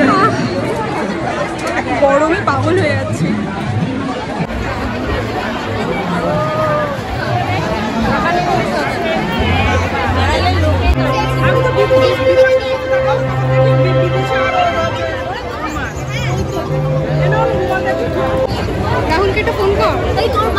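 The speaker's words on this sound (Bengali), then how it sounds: "প্রচুর ভিড়, আইসক্রিমের দোকানের সামনে প্রচুর ভিড়" Dense babble of many voices fills a crowded Poila Boishakh fair in front of an ice cream stall, a steady close hubbub with nearby people talking over it and faint tonal music in the middle stretch.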